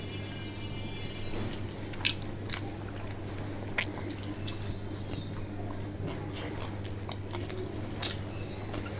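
Close, soft wet chewing of fried bitter gourd cooked in mustard oil, steady mouth sounds with occasional crisp bites, no talking.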